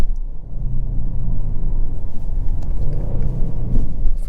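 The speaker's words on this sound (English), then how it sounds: "I'm definitely hearing a little bit more burbles than before. The new active exhaust." A 2022 Genesis G70 3.3T Prestige AWD with active exhaust gives a steady low rumbling burble from inside the cabin, with a deep engine drone that swells slightly, no talking.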